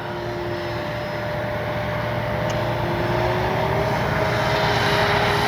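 At full throttle, an FMS Ranger 1220mm RC trainer airplane holds a steady propeller and motor drone that swells gradually louder as it nears, continuous and unbroken with no voices.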